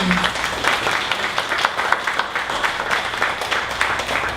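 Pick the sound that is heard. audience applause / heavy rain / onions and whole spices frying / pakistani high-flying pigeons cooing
audience applause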